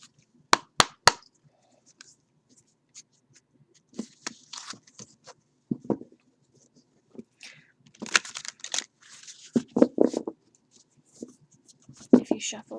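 A tarot card deck being shuffled in quick, crisp riffles and flicks, starting with a few sharp snaps and continuing as intermittent papery bursts between quiet pauses, close and clear.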